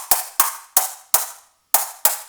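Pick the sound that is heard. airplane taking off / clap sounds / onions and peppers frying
clap sounds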